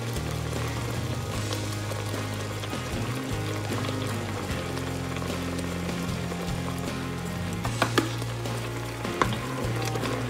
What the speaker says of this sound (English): lower your heat to a medium so that you have a nice simmer going for the rest of the cooking process